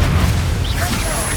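A Bombardo blast spell explodes in Hogwarts Legacy as a loud, close, dense boom with a rumbling low end and crackling noise, lasting through the brief moment.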